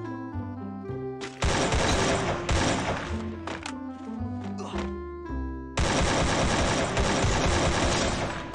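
MP40 submachine gun fire in Free Fire, heard as dense rapid bursts over loud rhythmic background music, with a short lull before a second sustained volley.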